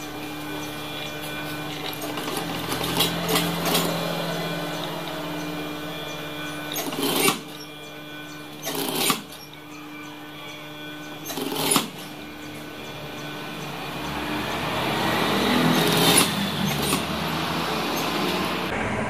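A sewing machine stitches a trouser back pocket with a quiet running hum and rattle. Several short sharp bursts cut in as the stitching is reinforced, and the machine speeds up again toward the end.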